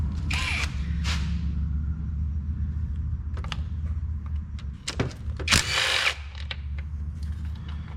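A power tool whirs and ratchets in short bursts while backing out the 10mm bolts holding the alternator on a 2020-2024 Nissan Sentra, with clicks and metallic clunks between runs, up close in a quiet workspace.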